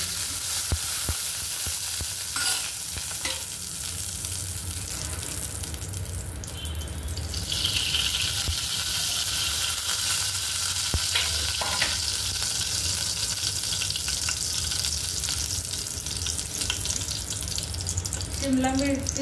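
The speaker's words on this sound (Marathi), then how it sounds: "तर आता पहिले आपल्याला करायचं आहे शिमला मिरची भाजून घ्यायची" Capsicum roasting in a pan, a continuous close sizzle with a hiss like running water and occasional clinks of stirring, a voice speaking briefly at times.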